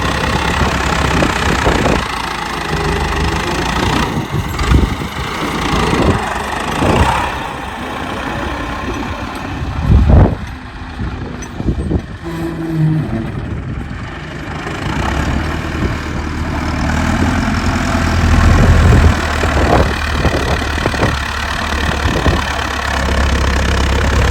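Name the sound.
tractor engine idling with trolley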